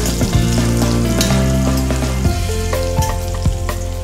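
Tomatoes and small sambar onions frying in a pan: a loud, constant, close sizzle with occasional clinks and scrapes, under steady low background tones.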